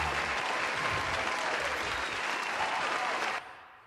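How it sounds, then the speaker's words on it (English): A studio crowd breaks into loud, steady applause for a podcast episode, dense clapping and some cheering that holds for several seconds and then cuts off abruptly. "Let's get a round of applause from the crowd."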